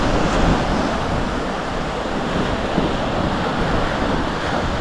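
Gentle sea waves roll at Paysawan Beach in Bagac, Bataan, a steady broad wash of surf mixed with wind buffeting the microphone, loud and continuous without speech.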